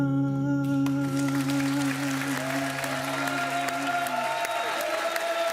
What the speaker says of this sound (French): qu'on applaudisse très fort